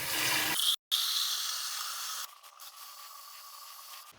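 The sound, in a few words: water filling Keurig K Supreme reservoir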